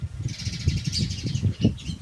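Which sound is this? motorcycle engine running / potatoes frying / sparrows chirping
sparrows chirping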